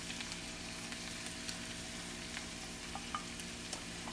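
Six ears' worth of fresh corn kernels searing in a pan with bacon, peppers and onions, a faint steady frying hiss scattered with light pops.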